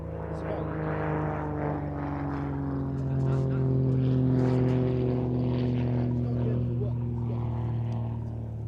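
A single-engine Grob Tutor propeller trainer flies an aerobatic display at an air show, its steady droning engine holding a continuous tone that swells slightly mid-pass, with a commentator's voice over the public address.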